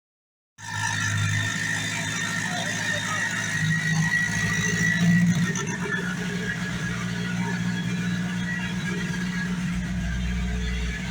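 A 2000 Honda Civic Si with a turbocharged K20Z3 engine fires up abruptly after a moment of silence, then settles into a steady, close-up idle with a slight squeal and a faint rise in revs midway.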